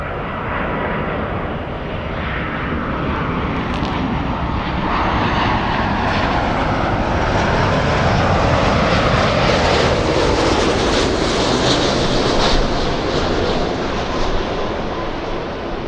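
A heavy Airbus A330 on final approach and landing at LAX runway 24 right, a loud sustained jet engine roar that builds and sweeps past steadily for the whole stretch, with no talk.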